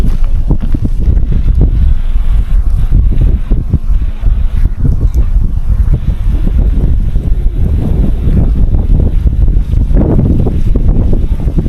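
Steady wind buffets a campsite at Than Thiu Pha in Chonburi, Thailand, rushing loud and close into one side of the camp with a constant roar and no voices.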